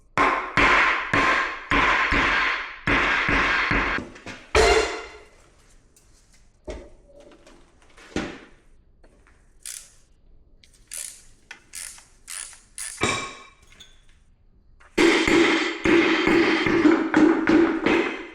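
Seized pistons are hammered out of a rare Edsel engine: a rapid run of loud, close metallic blows, then a quieter stretch of scattered taps and clinks, before another dense burst of hard strikes at the end.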